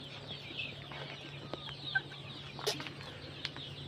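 Kadaknath chickens, an all-black breed, on a poultry farm, heard faintly from a distance as scattered soft clucks and brief calls over a low steady farm hum.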